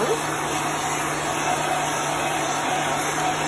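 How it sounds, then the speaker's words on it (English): An industrial heat gun blows a steady, loud, unbroken hiss of air at close range, with a constant hum running beneath it. "This is an industrial heat gun."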